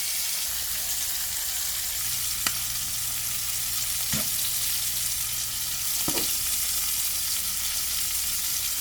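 Shrimp frying in a pan for butter garlic shrimp, a steady, fairly quiet sizzle running throughout with a few faint clicks of utensils against the pan.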